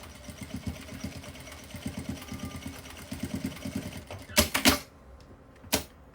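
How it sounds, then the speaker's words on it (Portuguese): A sewing machine runs in a steady rapid stitching rhythm, pausing and restarting as it backstitches to secure a strap on a small phone pouch, then several louder clunks near the end. "eu vou fazer uma costura com vários retrocessos aqui para prender o meu"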